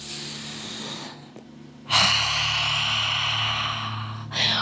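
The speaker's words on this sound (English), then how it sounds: "So we take a full breath in." Ujjayi ocean breath practised in prenatal yoga, heard close to the microphone: a soft hissing exhale, then a brief pause and a long, full, steady breath drawn in through the nose with a gentle, ocean-like rasp.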